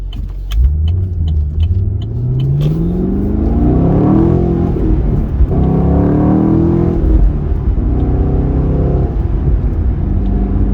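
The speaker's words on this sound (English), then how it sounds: "Probably shouldn't be flooring it with the check engine light on," A deep, throaty V8 engine in a 2017 Chevy SS revs up hard at full throttle with its check engine light on, its pitch climbing steadily as it accelerates, then it shifts and pulls again, loud and continuous.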